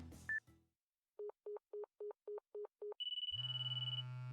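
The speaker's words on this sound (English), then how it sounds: "I can hear a ringtone in here somewhere" Inside a visual novel video game, a phone call is placed: a short blip, then a rapid run of seven evenly spaced dialing tones, followed by a bright, buzzing ringtone that trills on steadily.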